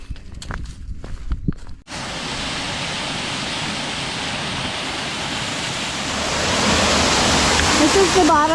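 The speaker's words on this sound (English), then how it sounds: "This is the bottom of Amber Falls." Footsteps crunch along a trail for about two seconds before the steady, close roar of Amber Falls on the Buffalo River in the Ozarks takes over, growing slightly louder toward the end.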